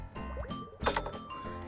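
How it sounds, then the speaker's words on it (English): Water burbles and gurgles as it fills a hollow toy during a sink-or-float test, a short close-up stream of trickles and small splashes. "when we filled it up with water"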